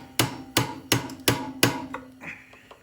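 Five evenly spaced, ringing metal hammer blows pound on sockets during a chain change on a Honda 300EX, each strike loud and close, followed by a brief fainter clatter.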